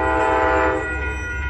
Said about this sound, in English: So this is Train 11, the code Starlight. Southbound train to Los Angeles.